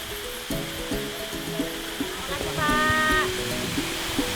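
Waterfall at Cunca Rami near Labuan Bajo: a steady, broad rush of falling water fills the background while a person talks over it.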